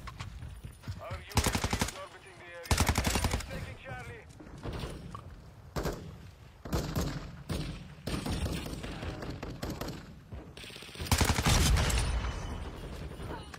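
Gunfire in a video game shooter comes in loud bursts of rapid automatic fire mixed with single heavy shots and thuds, broken by short pauses.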